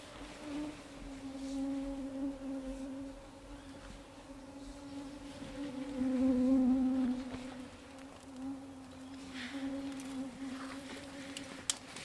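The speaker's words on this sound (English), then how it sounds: "Mosquitoes are loving it this morning." Mosquitoes buzz steadily around the microphone on a boreal wilderness morning, a continuous close whine that swells and fades as the insects drift nearer and farther, with no talking.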